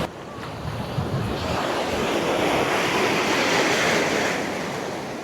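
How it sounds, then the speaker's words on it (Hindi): Ocean waves crashing on Bagda beach in Odisha, a loud continuous roar of surf swelling and surging close by, mixed with heavy wind buffeting the microphone. "चलिए अब हम लोग थोड़ा सा समुंदर के अंदर चलते हैं और लहरों का आनंद उठाते हैं।"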